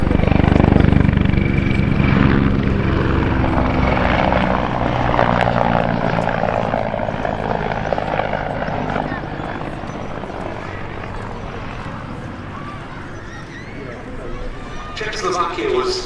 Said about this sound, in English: the Mi-35, now performing, enhanced by smoke